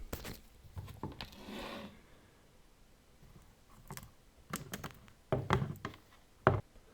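Wedges being tapped in to free a fibreglass spoiler mould for a Ford Fiesta ST150 Mk6, a scattered series of sharp knocks and clicks with quiet gaps between, a few louder thunks near the end.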